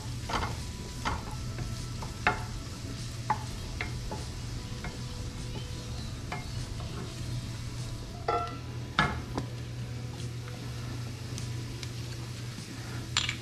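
Shallots cooking in butter in a pan give a steady sizzle over a low hum, with scattered scrapes and clinks from stirring.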